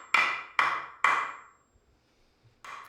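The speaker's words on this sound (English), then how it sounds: "Now I'm driving that main lever or whatever for the clamping in, and it's too tight." A wooden clamping lever is hammered into a shavehorse in three quick, loud, sharp blows, then a pause and a fourth strike, each a hard woody knock with a short ring.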